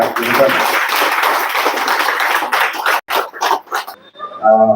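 An audience applauds at a spiritual discourse at Sri Vidya Shakti Peetham, a dense, steady burst of many hands clapping for about three seconds before it breaks up into scattered claps and a voice.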